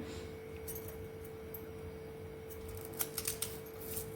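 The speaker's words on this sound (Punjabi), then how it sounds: "ਇਸ ਤੋਂ ਬਾਅਦ ਅਸੀਂ ਇਸ ਨੂੰ ਬਰੀਕ ਬਰੀਕ ਕੱਟ ਲਾਂਗੇ" Okra (bhindi) being finely chopped for a Punjabi sabzi: faint, sparse clicks over a steady hum, then a quick cluster of sharper cuts near the end, close and quiet with no speech.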